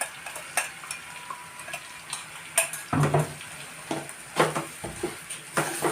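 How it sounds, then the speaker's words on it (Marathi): A spoon scrapes and clinks against a pan while sabudana khichdi with peanuts is sautéed and stirred, giving irregular close clatters over a soft background sizzle. "चांगलं परतून घेऊया, एकत्र करूया"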